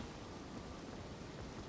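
Steady game rain in Elden Ring, a continuous broadband hiss of falling drops that stays even and moderately quiet throughout, with no talk over it.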